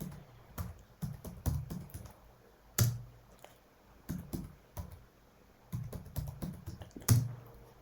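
A password is typed on a computer keyboard in a quiet room, with close, crisp key clicks coming in uneven clusters and a few louder thumps that sound like spacebar or enter presses. No one speaks.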